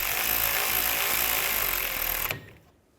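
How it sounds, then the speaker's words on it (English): A power tool whirs steadily and loudly while tightening a rear brake caliper bracket bolt on a 2011-2014 Chrysler 200, then cuts off abruptly near the end, leaving a quiet tail. "We can tighten up the bolt."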